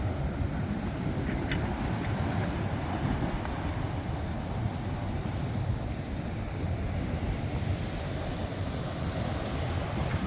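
Continuous rough surf churns and rumbles steadily on the Mediterranean coast at Roquetas de Mar, Spain, after a storm, with wind buffeting the microphone throughout; no voices.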